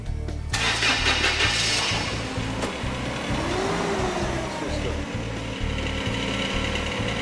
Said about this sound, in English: You now start your forklift.